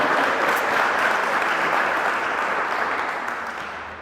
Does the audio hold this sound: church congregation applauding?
yes